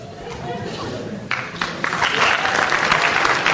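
Audience applause at a retailer of the year awards evening in St Albans, broad steady clapping from a crowd that swells and thickens partway through, with some voices mixed in underneath.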